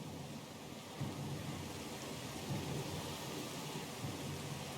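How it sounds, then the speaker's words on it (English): A thunderstorm with rain at sea in the video game Pillars of Eternity II: Deadfire, steady heavy rainfall with low rumbles of thunder swelling faintly a few times, no voices. "A little sloop? Lost and alone in the storm?"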